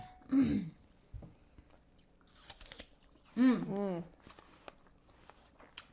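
A slice of Sweet Tango apple is bitten and chewed, producing soft crunching and moist chewing noises, close up, alongside two brief bursts of talk from a nearby voice.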